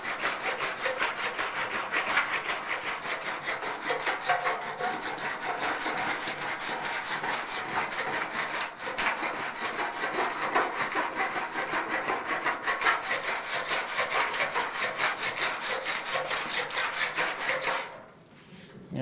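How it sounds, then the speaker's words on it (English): A metal file rasps steadily over a weld seam on a 1956 Chevy fender, with rapid, even back-and-forth strokes held up close for about seventeen seconds before stopping. "I'm going to hit it with the file just a little more"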